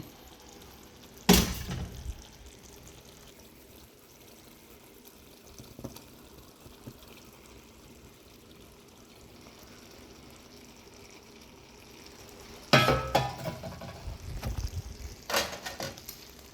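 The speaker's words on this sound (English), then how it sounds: "here's the ackee, and I'm just gonna pour that" Ackee being poured into a pan while cooking Jamaican ackee and saltfish, heard as a short splashy gush near the start, a longer pouring and sliding burst later, then softer clatter, all without talk.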